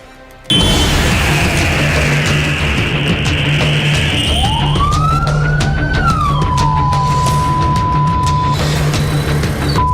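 An ambulance carrying a patient to a medical college in Alappuzha, its siren loud and close, wailing steadily and rising then falling in pitch over heavy road traffic noise.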